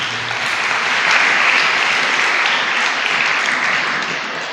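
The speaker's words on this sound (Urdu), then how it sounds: "ہم ان بچوں کے لیے بھی زوردار تالیاں بجاتے ہیں۔" Congregation at a Sunday Mass at St. Joseph's Parish applauding for the children, a dense, sustained clapping that swells slightly in the middle and holds steady to the end, with no talking.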